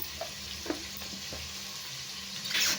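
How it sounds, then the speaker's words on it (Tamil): Onions with salt sauté on a high flame for a Chettinad mutton biryani made in a pressure cooker, giving a soft, continuous sizzle with a few light stirring scrapes and a brief louder hiss near the end. "உப்பு சேர்த்து வதக்கும் போது சட்டுன்னு வெங்காயம் நல்லாவே வெந்து வந்துடும்"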